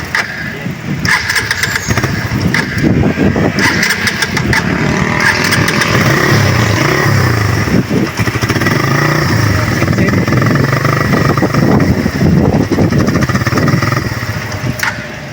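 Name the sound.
motorcycle engine starting and misfiring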